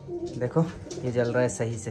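Pigeons cooing inside a pigeon house, soft throaty coos heard close by, partly mixed with someone speaking Hindi.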